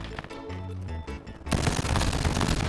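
Bursts of automatic gunfire from the mobile shooter game Warzone Mobile, starting after a stretch of game music and then rattling on loud and dense with no talk over it.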